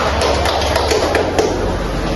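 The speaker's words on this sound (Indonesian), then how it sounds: "Tepuk tangan dulu." Pupils in a fourth-grade primary school classroom clap together, a dense, steady patter of many small hands filling the room for about two seconds, loud and close with no talking over it.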